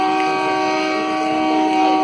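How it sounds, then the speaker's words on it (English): A train pulls out of Numan Junction station on an Indian railway, a steady loud rumble with sustained horn-like tones running throughout, continuous and close. "Our train is leaving."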